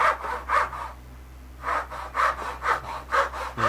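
A handsaw cuts a small notch in wood along a marked line, rasping strokes in a regular back-and-forth rhythm broken by a brief pause before resuming, close up with no speech.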